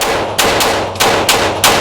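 Gunshots fired in quick succession from a handgun aimed with a red dot sight, five sharp loud cracks in an uneven rhythm, close and alone without voices.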